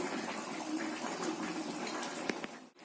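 Thin flour-and-water slurry poured into simmering chili chicken gravy in a kitchen, a steady liquid gush lasting a few seconds with a couple of small splashes near the end, close and moderately quiet, no talking.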